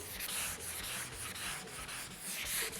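A sanding block rubs back and forth over Eastwood black 2K primer on a Camaro body panel. The gritty, hissing strokes are close and continuous and swell rhythmically with each pass, with no voices.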